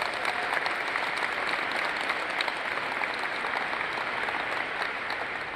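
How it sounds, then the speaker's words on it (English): An indoor audience gives a steady round of applause for an Air Force honor guard team at a change of command ceremony, dense, even clapping that holds throughout without voices. "Let's give this team a round of applause."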